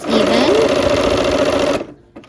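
A sewing machine runs steadily and loudly as quilt blocks are joined in rows with sashing strips, a continuous close whir for nearly two seconds before it stops abruptly, leaving near silence.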